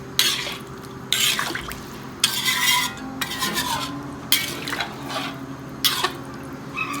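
Chicken curry being stirred in a pot, giving repeated scraping, sloshing strokes in irregular bursts against a low steady background hum, close and moderately loud with no talking.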